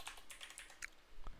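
Quick keystrokes on a computer keyboard while entering a terminal command, soft and close, a short run of light taps ending in a firmer press.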